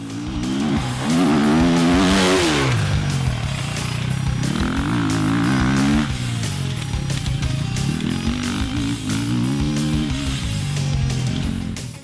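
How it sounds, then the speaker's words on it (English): A 2014 KTM off-road motorcycle engine revs hard while riding an enduro course, the pitch rising and falling through repeated throttle bursts, loud and close for the whole stretch. "Spent most of the morning riding some test portions of the Rattlesnake Enduro course and getting a pretty good impression of these bikes."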